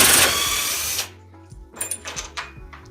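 Loud close burst of a Porter-Cable 20V MAX impact wrench spinning out a lag screw from a vise mount, cutting off after about a second, followed by a few lighter clicks and clatter of handling.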